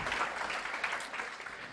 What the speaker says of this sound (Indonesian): beri tepuk tangan untuk Yesus